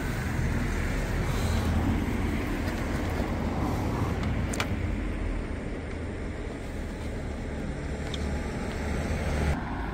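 Jet wash spraying a car at a car wash service, a steady broadband hiss and rumble running continuously throughout, close and fairly loud.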